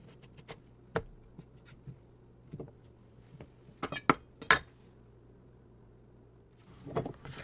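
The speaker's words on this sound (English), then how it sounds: "As I chop these potatoes" A knife chopping potatoes on a homemade cutting board, heard as sparse, irregular sharp taps and clinks with a couple of closer, louder strikes over a quiet background hum.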